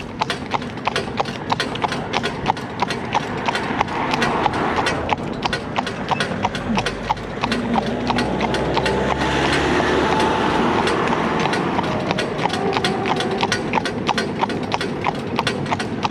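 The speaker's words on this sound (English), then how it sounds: "old trailer's gone past" A horse trailer passes on the road as a low vehicle rumble rising and fading midway, while rapid hoof clip-clops continue loudly throughout.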